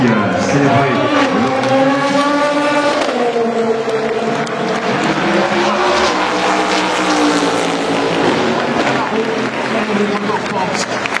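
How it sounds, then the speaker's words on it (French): Cadillac race cars roar past at the Le Mans 24 Hours finish, loud engine tones sweeping and shifting in pitch as they arrive, while an excited commentator talks over the noise and a crowd cheers. "Regardez les Cadillacs qui arrivent."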